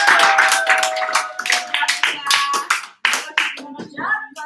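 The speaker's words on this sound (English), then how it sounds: "so round of applause for content!" A round of applause from an office team at a quarterly review, several people clapping in short bursts of moderate loudness, with voices talking over and between the claps.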